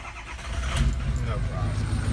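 A Ford 6.0 Powerstroke diesel truck, left sitting and low on fuel, cranks and fires into a dense, rumbling run, loud and near throughout the short burst.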